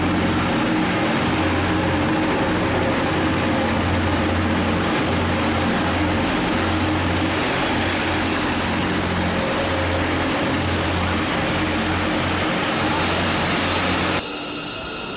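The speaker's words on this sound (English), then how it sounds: "Transpennine Express class 185 service to Barrow in Furness." A TransPennine Express Class 185 diesel train at Preston station, heard as a loud, steady engine and rolling drone that holds throughout and drops off abruptly near the end.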